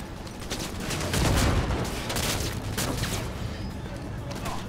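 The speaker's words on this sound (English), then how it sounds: "Grenade." A grenade explosion and gunfire in the video game Cyberpunk 2077 sound as a dense burst of booms and rapid shots, moderately loud, with a heavier blast partway through and continued firing after it.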